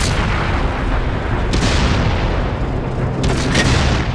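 Tank cannons fire at enemy armor in World of Tanks on Xbox, with loud booming blasts over a dense continuous roar of battle noise and a couple of sharper reports near the middle and end.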